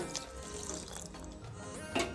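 Water pours into a cooking pot for mulagayi chutney with a short, soft splashing run that swells briefly near the end.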